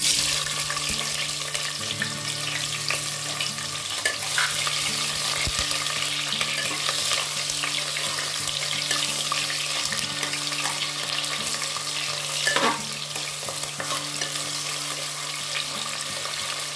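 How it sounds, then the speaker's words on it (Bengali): Thinly sliced onions frying in oil in a pan, a constant loud close sizzle with occasional stirring scrapes and clinks, steady throughout, over a faint musical hum and no speech. "এবার আমি এতে কুচিয়ে রাখা পেঁয়াজটা দিয়ে দেবো।"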